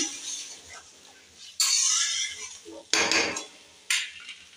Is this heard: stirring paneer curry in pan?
yes